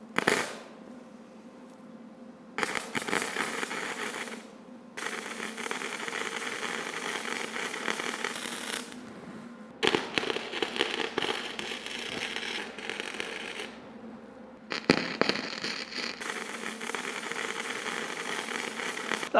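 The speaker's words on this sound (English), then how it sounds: "we'll weld up where the joints are" Painted metal shelving joints being welded, a harsh crackling, sizzling buzz that runs in several bursts separated by short pauses, close and fairly loud with no talking.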